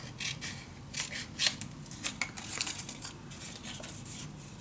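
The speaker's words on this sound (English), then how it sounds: "let me cut this a little shorter" Scissors snip through paper while a Stamperia Grand Hotel mini album is being made, a quick run of short, close, crisp cuts with no talking.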